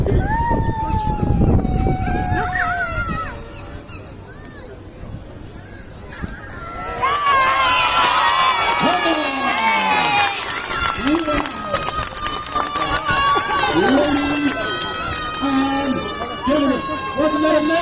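A street show crowd in Dublin cheers for a seven-ball juggling act, loud sustained cheering with whoops after a quieter stretch of talk.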